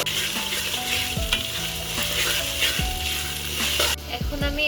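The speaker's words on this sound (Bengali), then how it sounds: "আদা রসুনের যে একটা কাঁচা গন্ধ আছে সেটা চলে যাওয়ার জন্য এখন আমি কিছু সময় পেঁয়াজের সাথে ভেজে নেব।" Onions frying with ginger garlic paste in a pan for shahi chicken rezala, a constant close sizzle and crackle with occasional scrapes and knocks of a spoon stirring against the pan.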